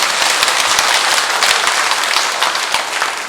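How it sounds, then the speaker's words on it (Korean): A church congregation at Sunday Mass applauds a nun in congratulation, a loud, sustained roomful of clapping hands with scattered sharper claps standing out, easing slightly toward the end. "다시 한번 우리 수녀님께 우리 축하의 박수를 보내주십시오"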